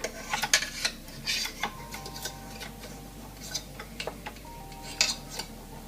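Metal whisk clattering and ticking against a bowl while whipping frosting or whipped cream for a raspberry tres leches cake, quick irregular close taps over a low hum.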